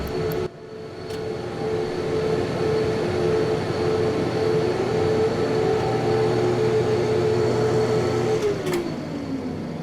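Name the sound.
fans running on 1980s 14-inch hard drive system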